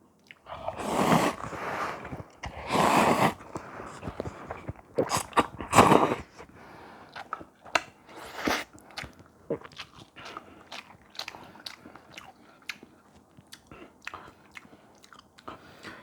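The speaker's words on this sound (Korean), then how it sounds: "이 소스 안에 열무 들었기 때문에 작긴 작지만 제법 앞삭가삭 하거든요" Loud, close crunchy chewing of Samyang yeolmu bibim noodles with young radish greens in the sauce, strong bursts of bites early on, then quieter repeated crisp chews and mouth sounds with no talking.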